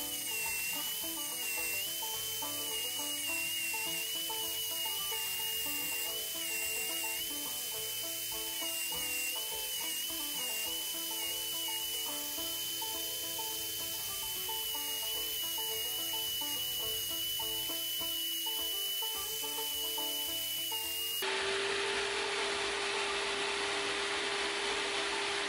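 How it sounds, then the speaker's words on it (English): A belt grinder refines the profile of a handmade knife, giving a continuous high abrasive whine with a wavering tone that shifts near the end as the pressure changes, with no talking over it. "We go in and we start refining the shape on the belt grinder."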